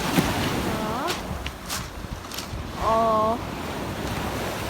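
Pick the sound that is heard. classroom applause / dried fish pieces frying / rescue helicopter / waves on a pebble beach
waves on a pebble beach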